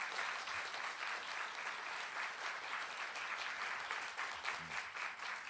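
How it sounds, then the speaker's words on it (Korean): A lecture-hall audience at Pusan National University applauds to welcome a visiting professor, producing a dense, steady wash of many hands clapping that holds evenly throughout without talk. "여러분, 교수님께 환영의 큰 박수를 한번 부탁드립니다"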